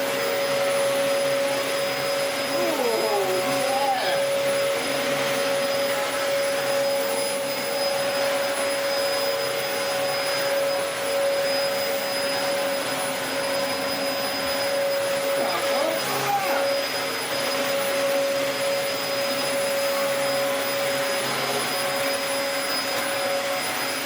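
A Dyson DC04 vacuum cleaner, Meningitis Research Foundation Special Edition, runs with a steady, loud, close motor roar and high whine throughout, its airflow rushing evenly with slight shifts in tone.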